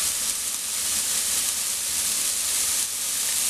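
Smash burgers frying in a hot pan after being flipped and pressed back down, giving a steady, loud broadband sizzle with a hissing edge that runs unbroken throughout, close up and with no voices.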